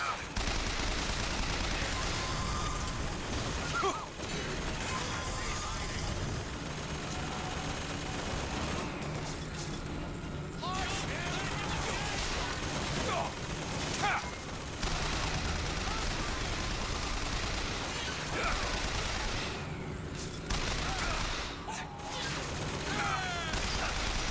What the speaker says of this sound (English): Is there another machine gun firing at me?